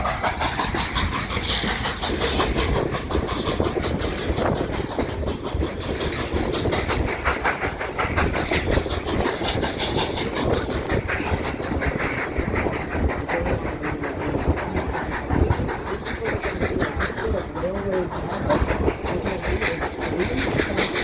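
A train rumbles steadily along the rails approaching the end of the line, with a continuous clattering roar, loud and close throughout, with faint squeals near the end.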